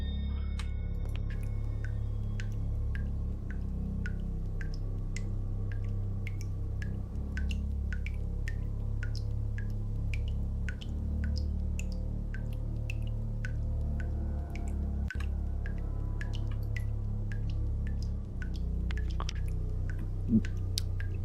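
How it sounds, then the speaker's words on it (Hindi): Liquid dripping in a horror video game, a steady series of sharp, evenly spaced drips over a low, droning ambient rumble, with no voices. "पानी कहां से टप टप कर रहा है?"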